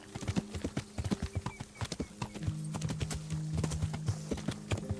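Horse hooves clip-clopping in quick, even beats while riding across the countryside in Kingdom Come: Deliverance, close and crisp over a low hum of tack and ambience.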